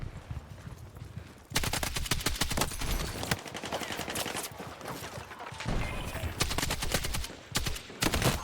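M240L machine gun fire in the video game Battlefield 6, sustained loud automatic bursts with brief pauses between strings of rapid shots, close and dominant in the mix.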